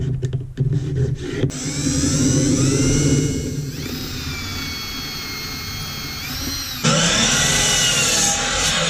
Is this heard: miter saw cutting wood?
yes